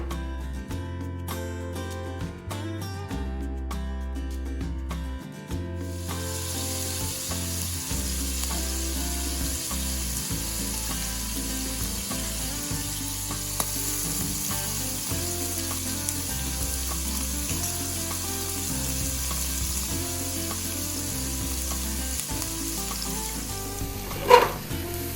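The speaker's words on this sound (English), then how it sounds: "What we've got to do is just fry off the prawns" Prawns given a quick fry in a pan for a red coconut curry hiss steadily under loud, continuous background music, with one brief clatter near the end.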